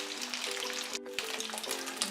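Momo shallow-frying in a pan as they turn golden on the second side: a steady, fairly quiet sizzle with soft crackles throughout, under a faint tonal background.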